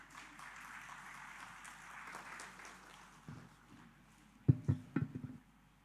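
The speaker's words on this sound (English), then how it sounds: "let's give a round of applause and welcome her" Audience applause welcoming a speaker onstage at a shipping directorate anniversary event, starting faint and scattered, then swelling into several louder, closer claps near the end before stopping.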